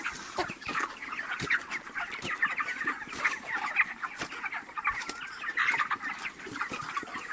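Many chickens cluck and call continuously in a crowded poultry farm house of about 2,200 birds, a dense overlapping chorus with occasional wing flaps, steady and fairly near throughout.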